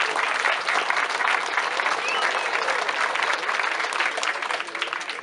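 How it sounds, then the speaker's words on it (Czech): Steady, dense applause fills a hall at the 90th anniversary celebration of the Slovan Broumov sports club. The clapping is even and continuous for five seconds, from a large audience, with no clear speech. "Pojďme jim všem za to potleskat."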